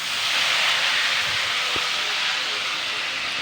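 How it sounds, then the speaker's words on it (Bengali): Pieces of rohu fish sizzle in hot mustard oil in a wok, a steady loud hiss of frying with a faint low knock as a piece drops in. "আমি এক একটা করে মাছগুলো কড়াইয়ের মধ্যে আমি ছেড়ে দিচ্ছি"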